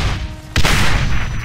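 The German 88 artillery gun fires in the Brothers in Arms video game, a single sharp loud blast after a quiet moment, trailing into a sustained rumbling roar.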